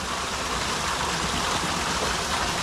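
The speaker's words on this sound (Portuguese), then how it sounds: "Isso aqui é um espetáculo, cara, é uma mini cachoeirinha." Small waterfall on a stream at a forest farm, a steady broadband rush of falling water that holds even and close for the whole stretch, with no voices over it.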